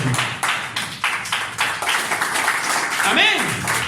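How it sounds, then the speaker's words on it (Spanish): A church congregation claps in loose, uneven bursts, with a voice speaking and calling out over the applause. "Denle un aplauso al Señor."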